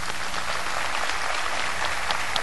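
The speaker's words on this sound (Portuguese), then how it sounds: "Eu queria que vocês aplaudissem vocês mesmos, por favor." A conference audience applauding in a hall, a dense, even wash of many hands clapping at once for a couple of seconds, loud and continuous with no speech.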